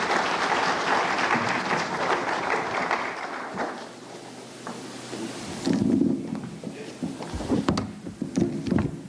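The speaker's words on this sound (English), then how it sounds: "One more round of applause." An audience at an education ministry launch event applauds, a broad wash of clapping that is loudest at the start and then thins into scattered claps, with wind-like rumble and handling noise.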